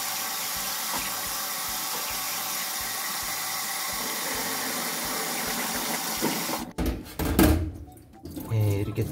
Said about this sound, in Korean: 물을 틀고 찬물에 식혀 주겠습니다.